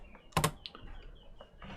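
A command being typed on a computer keyboard in Rhino 3D software, a quick pair of close keystrokes followed by a few fainter taps.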